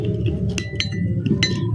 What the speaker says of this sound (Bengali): এখন আমি এই 3টা উপকরণকে খুব ভালোভাবে মিশিয়ে নেব।